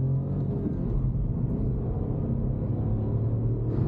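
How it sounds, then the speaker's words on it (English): A small turbocharged four-cylinder car cruises on the Autobahn, heard from inside as a steady low engine drone and road rumble with no pauses. "It's got a turbo 4-cylinder. I can hear it make turbo noises a little bit"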